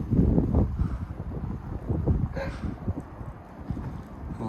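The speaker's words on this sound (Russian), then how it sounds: "Посмотрите, какой у нас ветер." Strong, gusty wind that has been blowing for about an hour and bends the trees buffets the microphone in uneven surges, with scattered knocks and rustles and no speech.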